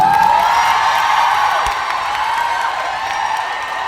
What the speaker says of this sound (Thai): อยากให้ทุกคนส่งเสียงกรี๊ดดังๆ ให้กับทีมงานทุกคนใน MV นี้ครับผม